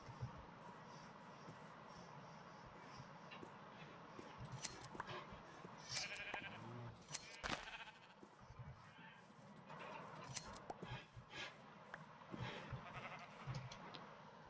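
Several blocky sheep in the Minecraft video game bleat at intervals over a quiet background, with short, sharp game clicks and a few louder bleats scattered across the scene; no talking.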